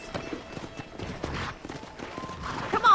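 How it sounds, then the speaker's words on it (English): Horse hooves clop at an uneven pace in Red Dead Redemption over a dull, muffled background, ending with a brief high whinny-like squeal. "let's see if you can still ride a horse."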